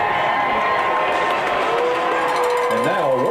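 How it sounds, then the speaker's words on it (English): Har-Ber Wildcats high school football fans applaud and cheer as their team takes the field at Farmington in 2025. The outdoor crowd noise holds steady and fairly loud throughout, with a few brief tonal cries near the end. "And a rousing applause from the Har-Ber faithful"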